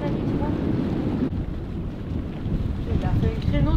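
Strong wind roars and buffets the microphone in a constant, heavy rumble outdoors, with faint voices partly buried beneath it.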